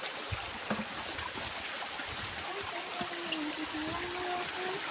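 A shallow creek where tilapia were released trickles and flows steadily outdoors. A soft, constant watery hiss is heard, with faint scattered clicks and a thin distant tone.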